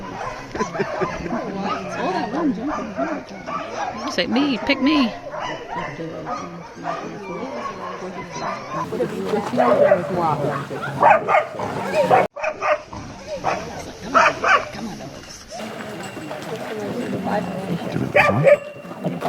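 Several sled dogs bark, yip and whimper excitedly nearby in kennels at Denali National Park, Alaska, overlapping one another, while a person talks over the commotion.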